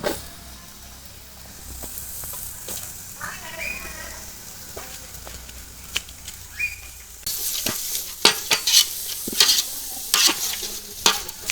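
Kothu rotti is stir-fried with cabbage in a pan for Jaffna village cooking, with a continuous sizzle under repeated metallic clanks and scrapes of the spatula that grow louder and sharper toward the end.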